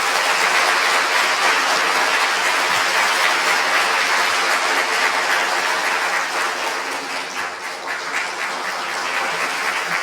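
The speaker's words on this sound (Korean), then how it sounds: "다 같이 박수하겠습니다" Sustained applause from a church congregation during a Korean Sunday worship service, steady and dense clapping that fills the room for the full stretch with no speech over it.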